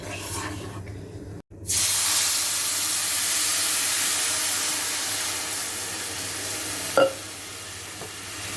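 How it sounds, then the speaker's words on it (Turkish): Syrup poured into hot semolina halva in a pan, giving a sudden loud, steady sizzling hiss that runs for several seconds and then gradually eases off, with a brief clatter near the end. "Şimdi şerbetini dökeceğim."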